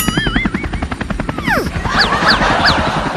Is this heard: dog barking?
no